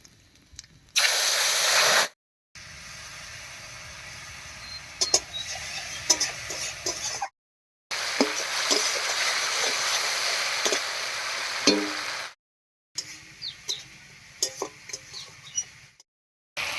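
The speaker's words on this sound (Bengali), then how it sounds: "লঙ্কাটা কষানো হয়ে গেছে" Ground chili paste sautéed in oil with whole cumin and bay leaf in a kitchen pan, bursts of crackling sizzle and spatula scrapes separated by short silent cuts, no speech.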